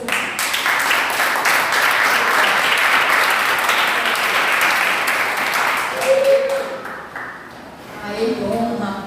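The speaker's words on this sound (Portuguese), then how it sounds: "Vamos aplaudir o Senhor Jesus." A church congregation at a Pentecost service applauds loudly and continuously, dense clapping that fades toward the end as a few voices rise.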